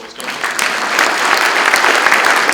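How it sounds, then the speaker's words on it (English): An audience at a skeptics' conference breaks into applause, swelling quickly into dense, steady clapping from many hands that fills the room and holds loud to the end. "give them a round of applause."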